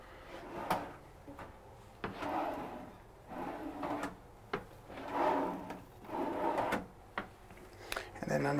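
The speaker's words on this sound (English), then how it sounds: "Again, plenty of drawers." Drawers in a Newmar Essex 4578 bunk-model motorhome slide open and shut with a series of sharp wooden clacks and brief rolling rubs, spaced every second or so, while a person talks throughout.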